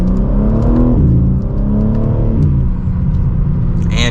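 A 2024 BMW M3 Competition accelerates hard back up to speed, its engine revving loudly through rising pitch sweeps with a shift-like dip in between, heard close with a steady road rumble and no talking.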